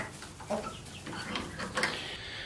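Hens cluck softly inside a homestead chicken house, giving a few short, scattered calls over a quiet, murky background with no talk.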